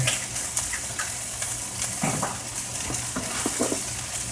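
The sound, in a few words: stirring omelette egg mixture with butter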